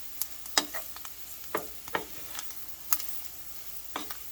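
A spoon stirs flour into sausage in a pan with a soft sizzle beneath, giving scattered scraping strokes in an irregular rhythm, close and fairly quiet, with no one talking.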